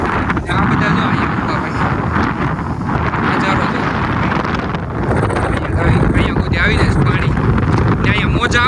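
Strong wind buffets the microphone on a hilltop of an island in the sea, a loud continuous roar that rises and falls for several seconds, with faint voices underneath.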